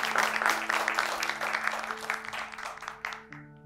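An audience applauds a successful poem, a dense wash of clapping that fades out after about three seconds, with steady tones from music or a sustained note running underneath.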